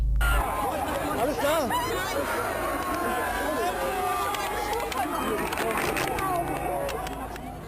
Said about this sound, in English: And with the crowd pushing now from all directions, there was just no stopping the force